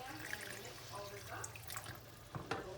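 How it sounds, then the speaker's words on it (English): Water pours from a tap into a pot of potatoes, a soft, faint running trickle with a few small splashes and clinks near the end. "so we'll add a little bit of water"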